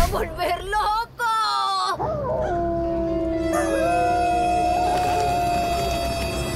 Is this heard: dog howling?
yes